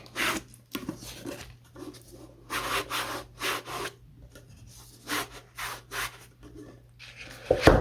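Cloth or pad rubbing over an image transfer to clean off browning wax, in short repeated scrubbing strokes with brief pauses between, close and fairly quiet, no talking.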